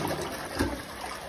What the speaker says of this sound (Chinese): 盖子调整好以后，我们就开始冲水试水